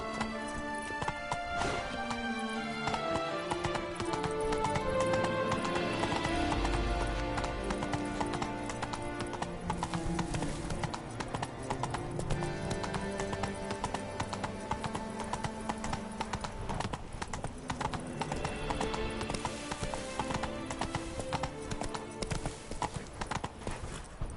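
Hooves of the horse Roach clip-clop at a gallop in The Witcher 3: Wild Hunt, with a fast, steady rhythm that runs throughout alongside game music, plus a brief whinny.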